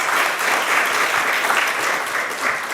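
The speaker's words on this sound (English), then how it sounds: "Give them all a big round of applause." A seminar audience at a talk on sleep and pain gives a steady round of applause, full and even throughout with no voices over it.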